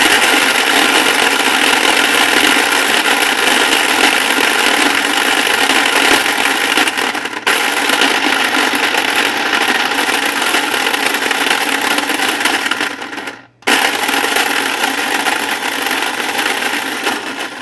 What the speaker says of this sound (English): So what the food processor is doing is just making the onion a lot smaller for my marinades